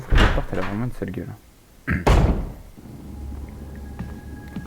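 A door in Resident Evil HD opens with a heavy thud and creak, heard between bursts of someone talking, followed by low ambient game hum.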